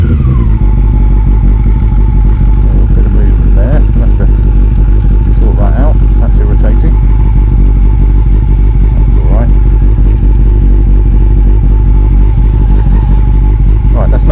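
Honda CB400 Super Four four-cylinder motorcycle running right after a cold start without choke, a loud, close, steady idle with mechanical clatter and occasional small blips.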